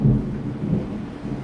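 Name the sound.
thunder during heavy rain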